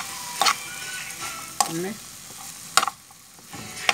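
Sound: stir-frying broccoli and carrots in a pan

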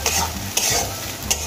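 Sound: ground prawn heads frying in oil

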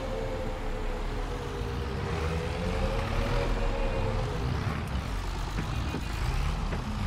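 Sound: tractor driving in video game Farming Simulator 22

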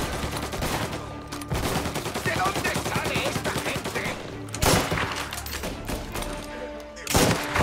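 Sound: rifle gunfire in Mafia: Definitive Edition video game

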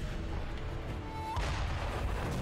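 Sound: cannon firing in video game Sekiro

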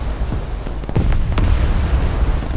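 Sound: naval gun salvo explosions in video game War Thunder

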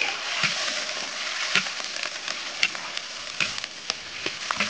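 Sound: stir-frying rooster in a wok

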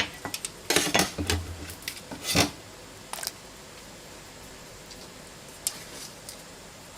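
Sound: putting things into a cooking pot

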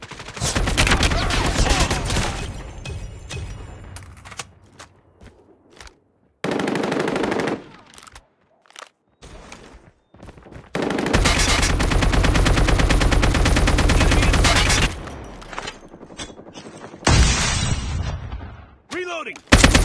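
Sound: AK-47 gunfire in a video game

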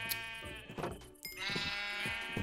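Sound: sheep bleating in the video game Minecraft

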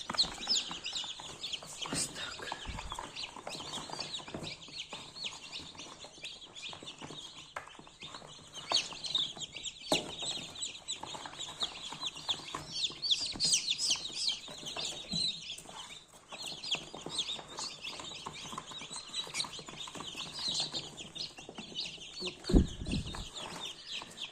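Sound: newly hatched chicks peeping

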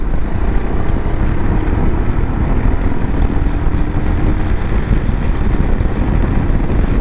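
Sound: Royal Enfield Himalayan motorcycle accelerating onto dual carriageway

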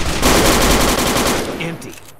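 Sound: gunfire in Fallout New Vegas video game

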